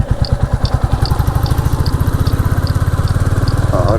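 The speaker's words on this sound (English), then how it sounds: "Just listen to that engine." A Royal Enfield Classic 350 motorcycle engine running loud and close while climbing a hill, its steady thumping pulse throbbing evenly throughout.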